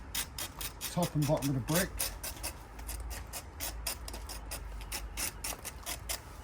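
A tool scrapes excess mortar off brickwork while repointing with a half round finish, making repeated sharp rasping strokes at a steady pace, close by, with someone talking briefly in the middle.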